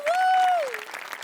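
An audience at a Marathi comedy stage show applauds in a short burst of clapping, joined by a long whistle-like tone that bends downward.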